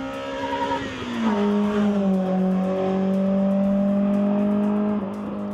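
A BMW E30 M3 engine revs high and steady on a racetrack, its pitch sliding down then holding, loud and close with a faint tire squeal edge.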